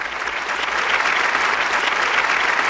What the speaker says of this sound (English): Let me give you a round of applause for that